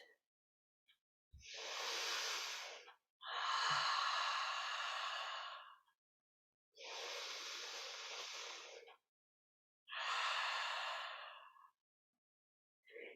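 Slow, deep breathing held in a yoga pose, four long airy breaths with quiet pauses between them, close and soft, with no talking.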